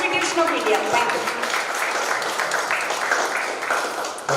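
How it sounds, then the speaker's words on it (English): Applause from an audience at a district youth parliament event in a hall at GITAM in Visakhapatnam, a steady dense wash of clapping filling the whole stretch at fairly loud level, with some voices mixed in. "So let us give a big round of applause"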